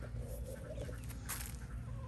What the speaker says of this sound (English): Chickens are waiting on me.